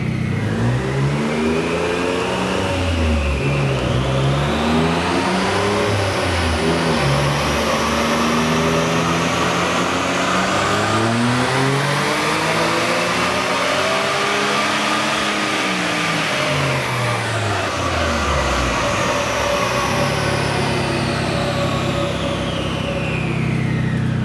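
A Suzuki Cappuccino engine on a dyno revs hard through repeated climbs and drops, a loud buzzing small engine rising to the speed limiter in fourth gear, with no talk over it.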